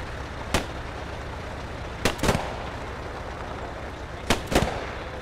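Gunfire from a building during a World War II assault in Post Scriptum, several sharp distant shots in small clusters, some doubled, over a steady background hum.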